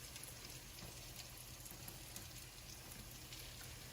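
Steady, crackling sizzle of broccoli-stuffed bread baking in the oven, a dense hiss of small pops continuing evenly throughout with no voices.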